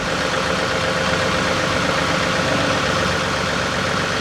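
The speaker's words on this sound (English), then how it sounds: "Guide the tractor forward here." A tractor engine idles steadily and close by, a continuous mid-to-low mechanical drone without pauses or speech.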